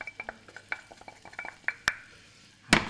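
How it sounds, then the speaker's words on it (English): Lamb cubes and flour browning in a frying pan beside pushed-aside onions, with a soft sizzle under repeated sharp clicks and scrapes of a utensil stirring against the pan, ending in a louder clatter; no one speaks. "I'm just going to brown off this lamb that I've cut into cubes"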